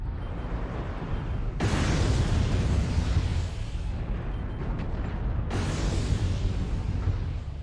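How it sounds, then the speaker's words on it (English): In MechWarrior Online, salvos of missiles launch and burst in two big rumbling waves of explosions, loud and close, with crackling debris between blasts and no talking. "you shouldn't be firing that many missiles"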